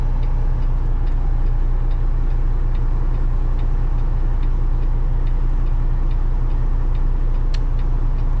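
Inside a moving pickup truck, a front bull bar rattles in quick ticking bursts over a loud, steady road and engine drone.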